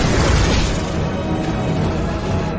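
A loud, sustained roaring blast rumbles through a burst of sword energy in an animated fantasy story, dense and booming throughout with no voices over it.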